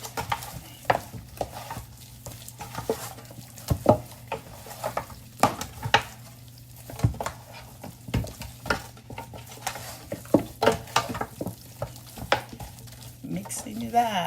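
Seasoning for fried chicken, black pepper among it, stirred and mixed in a bowl, with repeated scraping and clinking of a utensil in uneven strokes, close and moderately loud, with a low steady hum underneath.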